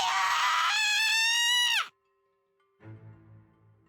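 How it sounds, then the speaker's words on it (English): A girl's piercing war-cry scream from the Iwaihime game rings loud and strained for nearly two seconds, breaks off abruptly into silence, then a fainter tonal sound follows. "That wasn't a scream, it was a war cry."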